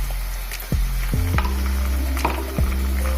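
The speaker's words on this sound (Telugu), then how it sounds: "ఇది కూడా కొంచెం వేయించుకున్నాము పచ్చివాసన పోయేంత వరకు." Onion with ginger garlic paste frying in a pan for Andhra prawn fry, a steady close sizzle with several sharp scraping stirs and spatula knocks across it; no one speaks.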